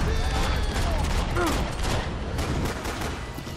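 Gunfire crackles in the Max Payne 3 video game, dense overlapping bursts of shots and booms running continuously through the clip, loud and close, with a voice briefly heard over the shooting.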